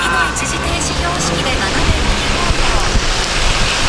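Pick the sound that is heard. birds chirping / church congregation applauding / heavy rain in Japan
heavy rain in Japan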